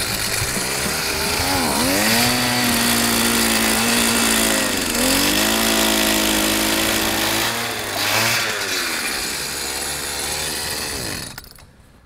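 A power ice auger drills a fishing hole through lake ice, its small engine roaring loud and close, rising and falling in pitch as it bogs and revs, then winding down and stopping at the end.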